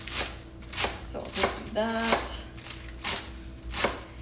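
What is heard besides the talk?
chopping lettuce finely with a knife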